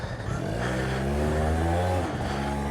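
A Yamaha BWS scooter fitted with a Stage 6 70cc kit pulls away nearby, its engine note rising steadily in pitch as it accelerates, with a brief dip near the end.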